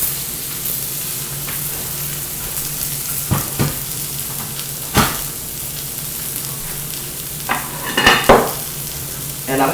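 A hot skillet holding a sizzling Vietnamese crepe of shrimp and pork, the stove just turned off, gives a constant frying hiss, while several knocks and scrapes mark the pan being moved, close and with no voices.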